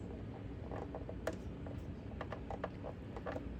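A screwdriver tightening the needle clamp screw on a sewing machine, faint close creaks and small metallic clicks in short irregular bursts against a quiet background.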